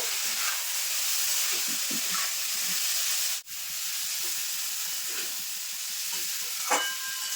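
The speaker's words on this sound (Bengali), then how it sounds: "এবার সবজির সঙ্গে কিন্তু কাজু কিশমিশটাও একটু ভেজে নেব" Cashews and raisins frying with vegetables in a pan for vegetarian fried rice, giving a steady close sizzle and hiss with soft scraping stirs throughout and one brief sharp break midway.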